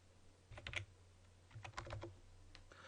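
Two short bursts of quiet keyboard typing, a quick cluster of keystrokes, a pause, then another cluster, with a faint low hum underneath.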